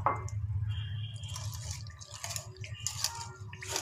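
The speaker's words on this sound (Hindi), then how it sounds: "हम दही में पानी डाल के उसको फेंट लेंगे।" Curd being whisked with water in a bowl for cucumber raita gives soft, wet squishing and dripping splashes in irregular bursts, close and fairly quiet, with no talk.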